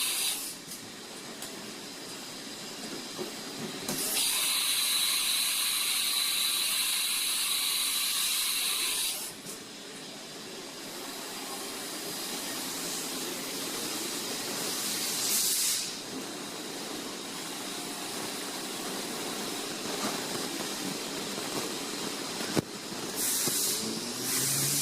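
A 1994 Haas VF3 CNC mill with a 15 hp spindle running a program at 7,500 RPM, with steady mechanical whirring, loud bursts of hissing spray and coolant, and occasional clicks and clunks, close and continuous.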